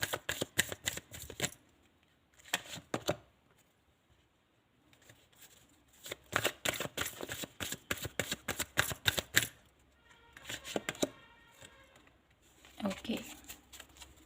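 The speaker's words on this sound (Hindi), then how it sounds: "मैं पहले से भी कार्ड ले लेती हूँ" Tarot reading cards are riffle-shuffled in several quick, fluttering bursts of crisp clicks, separated by short pauses of near silence.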